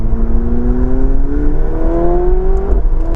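A McLaren 720S Spider engine revs steadily and loudly in sport mode, its pitch climbing smoothly through the gears with a brief shift near the end.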